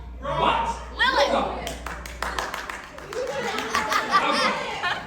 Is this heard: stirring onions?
no